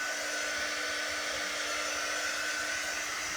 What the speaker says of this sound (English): Okay, so now I'm going to go ahead and hit this with my dryer.